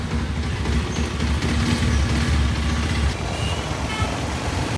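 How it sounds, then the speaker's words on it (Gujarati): A motorbike engine running while riding on a village road, a steady low rumbling drone with a continuous hum, fairly close and even throughout, with no talking. "બાઈક ચાલુ થઈ ગયું ચલાવવા"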